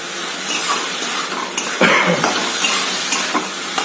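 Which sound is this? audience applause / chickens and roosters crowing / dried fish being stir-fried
dried fish being stir-fried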